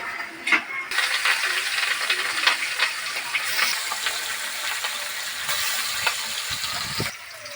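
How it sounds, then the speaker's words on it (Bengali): Loud, crackling sizzle of fish frying in hot oil in a wok, with scattered pops and a few clinks of utensils throughout. "কড়াইতে তেল দিয়ে দিয়েছি তেলটাও গরম হয়ে গেছে এবার এক এক করে মাছগুলো দিয়ে"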